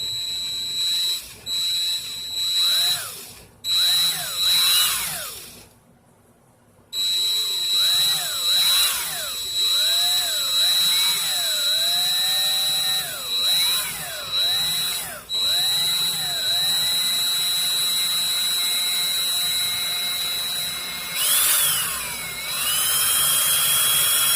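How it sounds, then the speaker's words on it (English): A power drill whirs continuously at high pitch, spinning to twist 26-gauge coil wire, briefly stopping and restarting, with its tone rising and falling as it spins. "spinning my drill."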